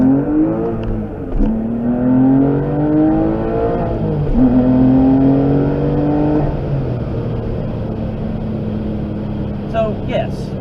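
Porsche 996/997 engine on a test drive down a mountain road, a loud steady drone whose pitch climbs in repeated rises as it accelerates through gears, then settles lower.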